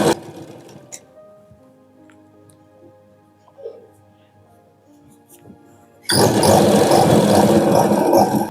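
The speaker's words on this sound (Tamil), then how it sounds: "அதே மாதிரி கை துணியிலையும் விளிம்பில் ஒரு தையல் போட்டுக்குவோம்." A sewing machine stitches the edge of a lining blouse sleeve, quiet with faint hum at first, then bursting into a loud, steady, close-up running whir that lasts to the end.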